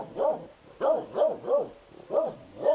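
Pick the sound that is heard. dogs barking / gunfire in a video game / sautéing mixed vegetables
dogs barking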